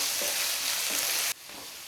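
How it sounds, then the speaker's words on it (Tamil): Chopped tomatoes sautéing in a pan for a side dish for chapathi and parotta, a steady bright sizzle with faint stirring scrapes, cutting to a quieter fry near the end. "தக்காளி சேர்த்து ஓரளவுக்கு நல்லா வதக்கிடுங்கம்மா."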